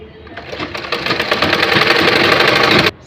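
An electric sewing machine stitches boys' pants, its motor revving up into a fast, buzzing, steady whir for a few seconds before stopping abruptly, loud and close.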